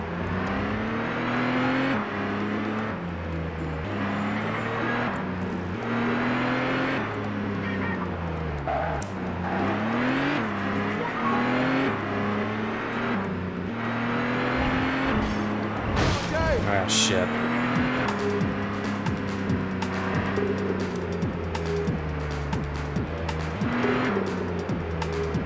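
A heavy, tank-like car in The Getaway video game, its engine droning and shifting pitch steadily throughout, with brief squeals and bumps, under ongoing talk.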